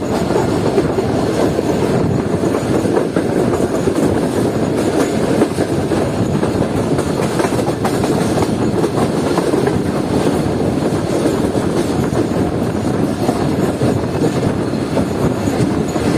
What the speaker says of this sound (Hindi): हमारी ट्रेन पहुंच रही है सम्मा सट्टा जंक्शन रेलवे स्टेशन पर